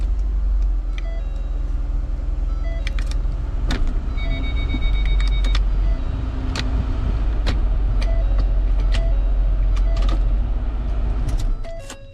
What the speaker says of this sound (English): check that the shifter works properly